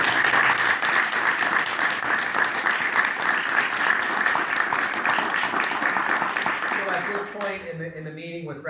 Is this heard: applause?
yes